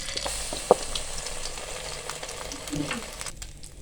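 Egg-dipped, sugared bread slices fry for French toast over medium heat, giving a steady close sizzle with scraping stirs and a sharp clink of utensil on pan.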